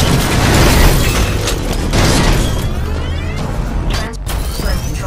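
In a video game, mortar-type enemies launch rockets from a distance, and they land as a dense, loud stretch of rumbling explosions and mechanical clatter. The roar stays heavy throughout, then thins briefly near the end before swelling again.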